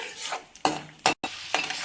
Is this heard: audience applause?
no